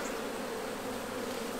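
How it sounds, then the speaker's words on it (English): A swarm of agitated honey bees buzzes steadily around an open hive during an inspection ahead of a storm front, a dense, continuous drone filling the space with no voices. "there is a storm front coming in, and so the bees are a little bit more agitated"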